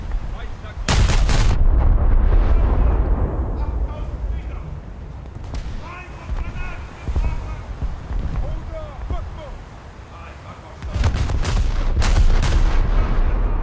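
A turret detonation rocks a ship in a naval battle video game, opening with a sudden, very loud blast followed by rumbling gunfire and explosions and a second heavy burst near the end, with a voice talking underneath.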